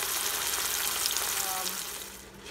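A beef roast stuffed with chorizo searing in a pan, giving a moderate continuous sizzle that softens toward the end, with a faint voice in the background.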